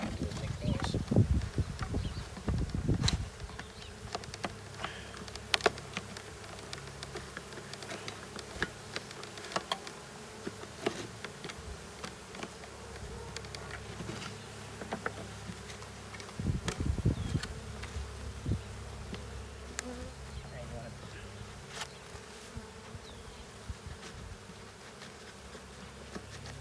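Package honey bees hum and buzz in a dense, continuous drone while being installed into a hive, with occasional knocks and clicks and a couple of louder thumps near the start and middle.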